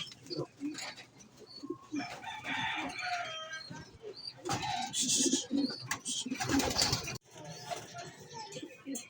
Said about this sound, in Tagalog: Ayan na guys yung mga ibon natin.